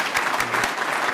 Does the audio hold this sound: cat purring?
no